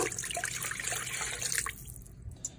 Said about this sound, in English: I've heated the water to where it is warm but not hot. So I'm gonna go ahead and add that.